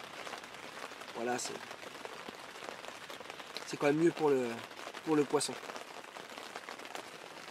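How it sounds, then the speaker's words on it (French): Rain falls steadily at night beside a gravel-pit carp fishing spot, a constant soft hiss of drops on surfaces that runs throughout, with someone talking briefly over it. "j'ai consulté la météo et il pleut jusqu'à ce soir"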